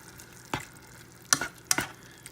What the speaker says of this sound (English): Everything we add, you want to keep stirring it.